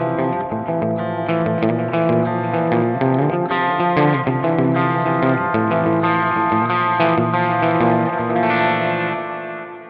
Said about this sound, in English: So it does sound good with a little bit of reverb and delay.